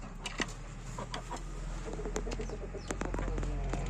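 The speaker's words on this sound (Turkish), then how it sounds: "Kapalı tavuklara bu horozumuzu gezdiriyoruz arkadaşlar" Rooster walking among penned breeding hens, giving short clucks and calls in a quiet coop, with scattered bird sounds around it.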